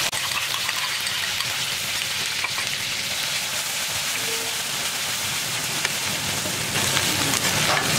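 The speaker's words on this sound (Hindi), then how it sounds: "अब हम अदरक लहसुन मिर्ची का पेस्ट डाल रहे हैं।" Ginger, garlic and chilli paste hits hot oil in a pan of panch phoron and curry leaves, a loud, dense, continuous sizzle like heavy rain that holds steady throughout, close up and alone.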